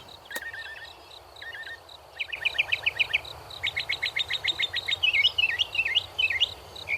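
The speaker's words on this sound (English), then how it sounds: "you might just be hearing the northern mockingbird." A bird sings a long, varied series of repeated phrases, shifting from short trills to rapid chattering notes, clear and fairly close against faint background hum.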